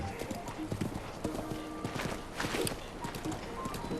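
Rhythmic clip-clop of horse hooves at a steady gallop in the video game The Legend of Zelda: Breath of the Wild, close and clear, with a brief whinny and background riding music.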